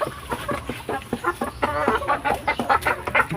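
Several pet chickens cluck steadily and closely while being fed, a dense overlapping chatter of short calls over a low background hum.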